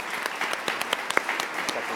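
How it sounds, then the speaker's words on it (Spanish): A seminar audience gives a steady round of applause, many hands clapping continuously and fairly loud, with faint talk underneath. "Aplausos a los..."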